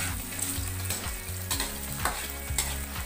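Ginger, also called luya, hits a hot pan for ox-tripe soup and sizzles steadily, with loud broadband frying and stirring throughout. Low tonal music plays underneath.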